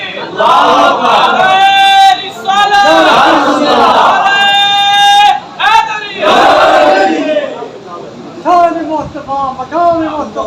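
A large crowd chants slogans in unison at a fiery religious gathering. Loud, rhythmic group shouts rise and fall in repeated bursts with brief pauses between them.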